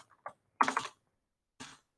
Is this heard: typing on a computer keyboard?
yes